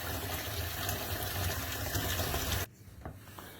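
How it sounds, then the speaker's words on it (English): Hot water runs steadily from a tap into a sink with a full, rushing broadband sound for a few seconds, then cuts off abruptly, leaving a quiet room. "Hot water in the sink."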